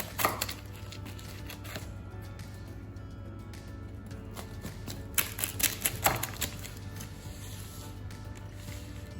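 Crackling crunches and sharp clicks as a knife cuts through crispy, oven-baked vegan Greek ladenia pizza, with a cluster of louder snaps partway through.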